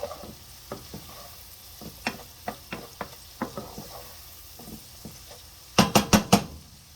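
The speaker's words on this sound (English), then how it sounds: "then we're going to throw our garlic in there." Garlic added to onions in a hot pan for chicken meatballs in cheesy cream sauce, with steady sizzling, a run of spoon-scraping taps, and a burst of loud stirring clatter near the end, no talking.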